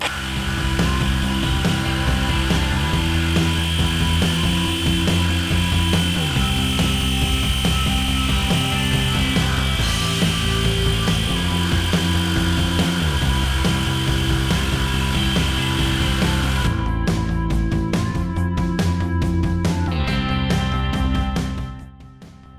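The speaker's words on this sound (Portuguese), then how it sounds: "Corte retinho com a tico-tico." A jigsaw buzzes loudly and steadily through wood, its pitch shifting slightly as it makes a straight cut along a guide, then cuts off abruptly near the end.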